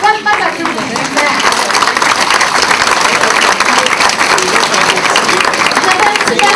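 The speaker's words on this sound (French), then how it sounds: "ça vaut une bonne main d'applaudissements" Audience applause at an annual anniversary brunch, a dense burst of many hands clapping right away and carrying on steadily throughout, fairly loud, with voices mixed in.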